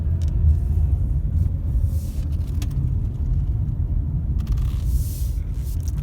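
A 2010 Chrysler Sebring Touring rolls along with a steady, close low rumble of engine and road noise inside the cabin. Faint clicks and rattles sit on top of the constant drone.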